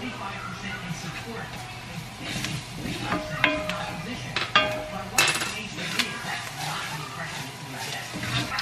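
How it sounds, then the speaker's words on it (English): Tomato paste being stirred into a pot for red wine braised short ribs, with light clinks and scrapes of a utensil against the metal pot under a steady background hum and some talk. "Then I will drop in some tomato paste. Mix that around."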